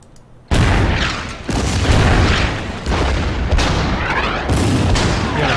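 Artillery shells pound a tank in the strategy game Order of Battle: Winter War, set on the Karelian Isthmus, with a string of loud, booming blasts following one another in quick succession and no talking over them.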